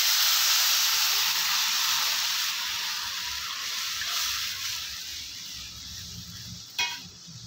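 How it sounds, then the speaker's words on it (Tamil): Rasam poured into a hot mustard seed tempering with crushed chilli and asafoetida sets off a loud, steady sizzle and steamy hiss that slowly eases, with a brief clatter of a pan near the end. "இப்போ இந்த கரைச்சி வச்ச ரசத்தை ஊற்றிக்கலாம்."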